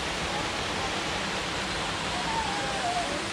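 Water rushes through a flume on a mountain trail in a dense, steady hiss, close and constant, with a faint whistle-like tone drifting over it near the end.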